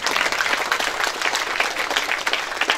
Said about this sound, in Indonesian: Sekali lagi tepuk tangan untuk Islamic Boarding School An Mansur.